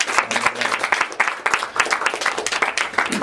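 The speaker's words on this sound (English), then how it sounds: "So a big round of applause." A small audience claps for puppeteer Stephen Mottram at an informal Moving Parts 2017 practitioner talk, giving a moderate round of applause with distinct individual claps in a close room.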